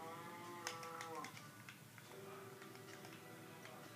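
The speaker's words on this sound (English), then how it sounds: "Move, cow." A cow in the Minecraft video game moos in two drawn-out calls, moderately loud, over faint ticking and background hum.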